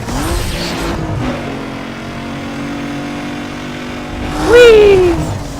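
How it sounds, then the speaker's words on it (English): Hyundai car engine in Need For Speed Underground 2 droning steadily, then revving sharply upward near the end, loud and close with no talk over it. "Aren't you bored of the sound of the Hyundai?"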